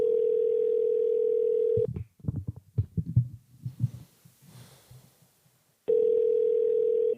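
A steady telephone dial tone during a prank call, a loud constant hum that stops for a few seconds of soft muffled thumps and clicks and then resumes.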